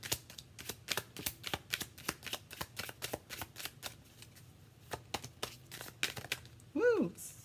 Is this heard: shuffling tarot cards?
yes